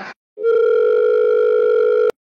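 A steady electronic phone ringback tone for a call to the owner of an Ashok Leyland Dost goods vehicle, one continuous loud tone of about two seconds, clear and close, preceded by a short blip.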